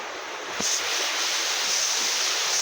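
A waterfall with low flow roars steadily in a constant broadband hiss, close and continuous, with no voices.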